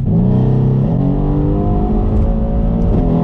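A Mercedes C63 AMG's 510-horsepower V8 revs loud and close, its deep growl rising in pitch and holding steady throughout.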